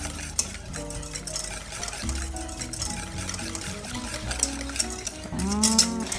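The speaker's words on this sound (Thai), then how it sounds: "เราจะใช้เป็นตะก้อมือในการคนนะคะ" A hand whisk stirs eggs and sugar together in a bowl, making soft, repeated tapping and scraping strokes, with music playing over it.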